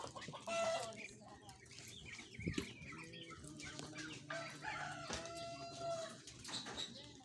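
Chickens cluck and squawk in bursts amid farmyard bustle, with people talking nearby over the birds.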